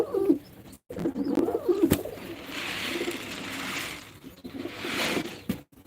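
Rajshahi Giribaz and racer pigeons coo softly in a loft, with low murmuring calls, flutters and a few sharp clicks alongside a steady background hiss.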